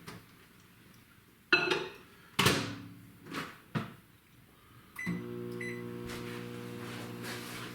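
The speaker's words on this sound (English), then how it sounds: "melt this butter in the microwave for 90 seconds" Clatter of a bowl of butter being set inside and a door shutting, then a steady microwave hum with a low drone starts and keeps running.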